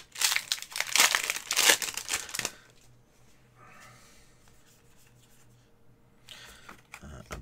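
A Flesh and Blood Arcane Rising booster pack is torn open and its foil wrapper crinkled: loud, close crackling for a couple of seconds, then quieter faint handling sounds and a brief rustle at the end.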